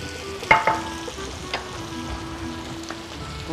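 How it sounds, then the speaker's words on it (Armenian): Mushrooms frying in a pan with potatoes and pork, a steady low sizzle with a few sharp clinks of stirring near the start. "սունկը ավելացրեցինք տապակվող կարտոֆիլի և խոզի մսի վրա"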